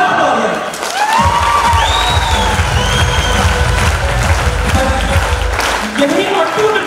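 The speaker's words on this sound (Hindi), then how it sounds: "एक बार जोर से तालियां।" A crowd at a motivational gathering breaks into loud applause with cheering and whoops, steady clapping building after a brief quieter opening and carrying on for several seconds.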